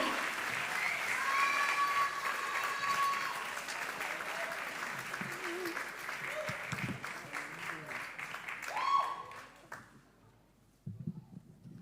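An audience at a French slam poetry competition applauds the poets, sustained clapping that thins out and fades, followed by brief quieter sounds near the end.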